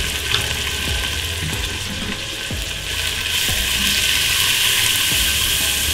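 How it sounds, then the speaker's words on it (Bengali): Ground coriander and cumin sauté in a hot pan, a loud continuous sizzle growing stronger midway, with repeated scraping thuds from stirring, close and without talk. "এখন মশলাটা কষানো হোক"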